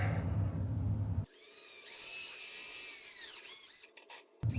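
A power drill drives bolts into a portable shooting target, its motor whirring up in one sustained burst with the pitch sagging as the bolt seats, framed by brief quiet stretches.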